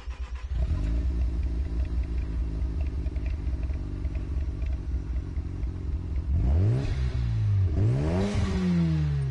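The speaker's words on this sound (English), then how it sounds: "why does this car sound so good?" A car engine in Gran Turismo Sport idles with a loud, steady low rumble, then revs hard twice near the end, each rev sweeping sharply up and falling back.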